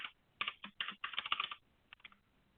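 Someone types a password on a computer keyboard, a quick close run of crisp key taps followed by a short pause and then a few more keystrokes, with no talking.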